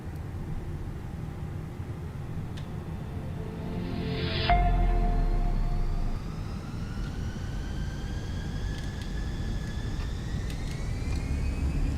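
Airbus A320 jet engines spool up for takeoff in a flight simulator game, a steady roar building as a rising whine climbs and holds, loud and continuous.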